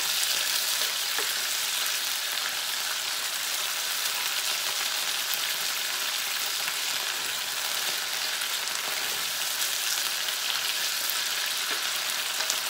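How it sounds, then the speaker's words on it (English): Beef and broccoli stir fry sizzling steadily in a hot pan, a dense continuous frying hiss with faint scrapes of stirring, close and even throughout with no talk. "Just stir this for about 1 minute."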